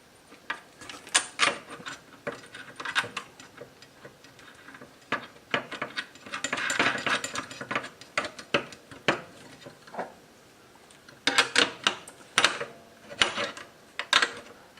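Turn signal nuts and washers being tightened on a KTM 390 Duke (2017-2023) during a fender eliminator install, with scattered small metallic clicks and ratcheting taps, close and intermittent, no talk.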